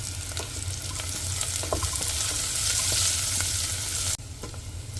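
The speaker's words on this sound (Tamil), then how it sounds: "இப்போ வெங்காயம் பூண்டு நல்லா வதங்கிடுச்சு" Onion and garlic sautéing in a pan for temple-style sambar rice, a steady close sizzle with faint stirring scrapes that cuts off abruptly near the end, leaving a quieter hiss.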